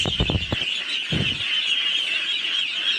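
Ducks being fed on a farm, heard as a close, dense chorus of raspy quacks and honks in a couple of bursts over a constant bright whine of background noise.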